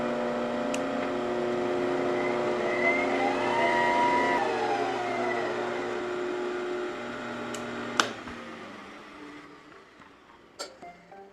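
A JET drum sander's motor whines as it spins up, settles into a steady hum that rises and falls, then winds down, with a few sharp clicks and knocks close by.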